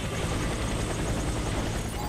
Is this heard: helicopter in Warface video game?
yes